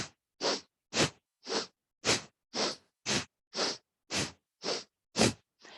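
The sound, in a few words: bellows breath (Bhastrika) yoga breathing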